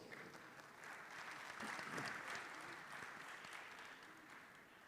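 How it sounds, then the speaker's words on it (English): Audience applause fills a summit hall at a global justice and peace gathering, a steady wash of clapping that swells in the middle and holds for several seconds with no talk over it. "Please, a round of applause."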